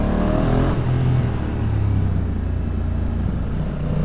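Exhaust note of a 2022 Honda NT1100 motorcycle on a road ride in Spain, a steady loud engine drone with a brief throttle change early on, close and continuous, with no talking.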